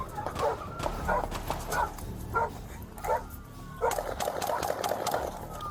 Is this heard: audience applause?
no